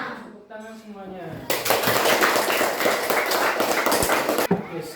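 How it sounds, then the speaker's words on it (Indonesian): A class of children applauding together, a dense burst of clapping that starts abruptly after a brief spoken prompt and carries on steadily for about three seconds before cutting off. "Tepuk tangan semuanya."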